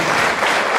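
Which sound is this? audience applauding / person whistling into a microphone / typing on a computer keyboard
audience applauding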